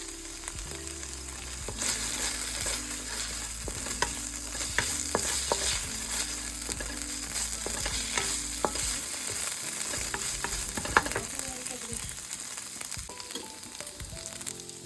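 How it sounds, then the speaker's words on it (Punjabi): Garlic-ginger paste and green chili fry in a pan for paneer lababdar, giving a steady close sizzle with occasional scraping stirs and no talk. "ਆਪਾਂ ਜਿਹੜਾ ਲਸਣ ਤੇ ਅਦਰਕ ਦਾ ਪੇਸਟ ਪਾਇਆ ਉਹਨੂੰ ਥੋੜਾ ਜਿਹਾ ਸੇਕ ਤੇ ਹਰੀ ਮਿਰਚ ਨੂੰ ਲਵਾ ਕੇ ਇਹਦੇ ਵਿੱਚ ਪਾਉਂਦੇ ਆ"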